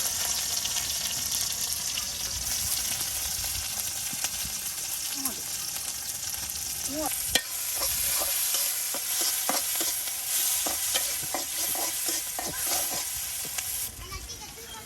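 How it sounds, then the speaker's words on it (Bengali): Chopped onions frying in oil in a rural kitchen, a steady broadband sizzle running throughout with occasional stirring scrapes and clinks, fairly close and continuous. "এই যে দেখুন পেঁয়াজ কুচিগুলি কিন্তু তেলে এখন সুন্দর করে ভেজে নেওয়া হচ্ছে।"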